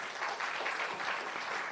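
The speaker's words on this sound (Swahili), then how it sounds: "Please clap for yourselves," Audience applause at a national delegates convention, a steady crowd wash of clapping, moderately distant and sustained throughout.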